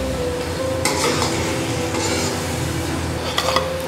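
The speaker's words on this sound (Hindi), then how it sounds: "चिकन हमारा फ्राई हो रहा है।" Chicken frying in a pan makes a constant close sizzle, broken by a few scraping stirs and light clinks of a utensil against the pan.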